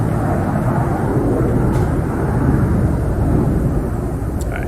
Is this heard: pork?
no